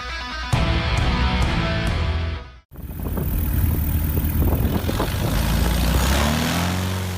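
A light aircraft's propeller engine roars loudly as it lifts off almost vertically in strong wind, a brief dropout in the middle before the droning engine and wind buffeting resume.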